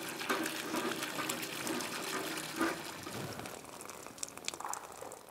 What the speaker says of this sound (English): his 10-year-old daughter, Zainab, is busy at the well